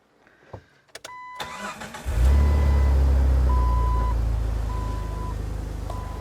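A few clicks and chimes, then a Jeep Wrangler 4.0 engine with a newly replaced fan clutch cranks and catches, settling into a steady, rumbling idle while a warning beep repeats intermittently.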